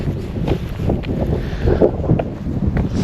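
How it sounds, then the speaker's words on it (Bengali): Strong wind buffets the microphone outdoors with a continuous loud rumbling roar and gusty surges, close and unbroken, with no clear talk. "অনেক বাতাস"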